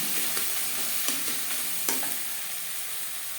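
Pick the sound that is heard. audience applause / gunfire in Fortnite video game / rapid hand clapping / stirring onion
stirring onion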